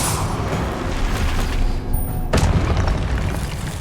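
A booming fire spell blast from Incendio in Hogwarts Legacy, a broad loud burst that swells and then hits again with a sharp impact midway, with no talking over it.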